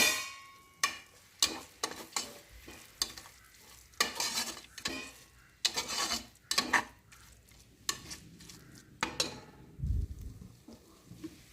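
Rice for mutton biryani being stirred in a pot with water and salt, a spoon scraping and clacking in repeated bursts with watery sloshing and faint sizzle between strokes, close and clear with no talk.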